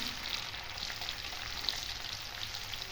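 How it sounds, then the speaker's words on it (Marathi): Tomato goes into onion already fried brown in a pan for a sprouted moth bean curry, giving a steady, soft frying sizzle with faint crackles throughout, close but fairly quiet and free of talk. "कांदा भाजला, टोमॅटो टाकूया"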